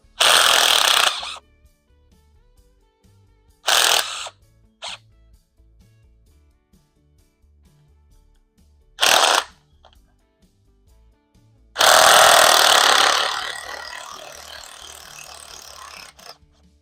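Power tool spinning nuts off during a rear end teardown, several short loud rattling bursts separated by quiet gaps, then a longer burst that tapers off, all close by.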